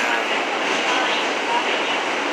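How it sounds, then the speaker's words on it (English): A subway train in New York, headed toward 42nd Street, rumbles with a steady broadband roar throughout, loud and close from inside the car, with no clear breaks or clatter. "We are now on the subway train"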